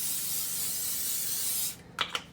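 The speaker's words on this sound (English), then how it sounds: "you want to make sure that you spray it with some non-stick cooking spray" Close, continuous hiss of non-stick cooking spray from a can aimed at a wire rack, stopping abruptly and followed by two short puffs of spray.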